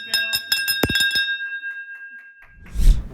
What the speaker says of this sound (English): We got a ship bell in here, and we ring a bell every time that we get money for one of our clients